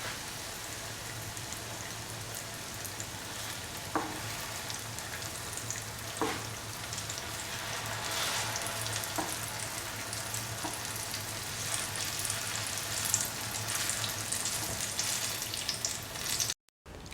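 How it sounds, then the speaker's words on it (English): Mango fritters frying in a Meyer Forgestone frying pan give a steady, close sizzle and crackle with a dense oily hiss. It runs unbroken for the whole stretch with a few soft clicks and no voices. "We are frying mango fritters in the frying pan."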